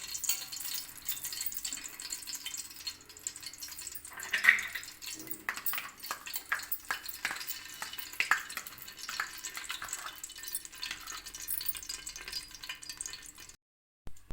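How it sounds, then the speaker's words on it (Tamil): Hot ghee poured into a pan for ghee biryani sizzles with a steady close hiss and scattered crackles, cutting out briefly just before the end. "சூடு நெய் ஊற்றிக்கலாம்"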